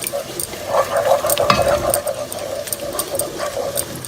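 A utensil stirs flour cooking in a pan for a lasagna sauce, giving a steady close scraping and soft sizzle with repeated light knocks against the pan.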